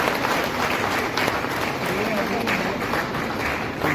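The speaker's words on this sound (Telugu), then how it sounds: "మీరందరికీ ఒకసారి బిగ్ క్లాప్స్" A seminar audience applauds continuously and densely, a steady wash of many hands clapping for the full length, with crowd noise mixed in.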